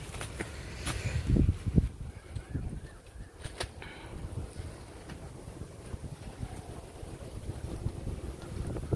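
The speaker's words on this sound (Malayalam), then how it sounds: "ഭയങ്കരമായിട്ട് കാറ്റും കടവിലെല്ലാം ഫുള്ള് കാറ്റ് ഇതാണ്" Strong gusting wind buffets the microphone at a riverbank landing in a rural fishing village before rain, roaring and rumbling steadily with heavier bursts near the start.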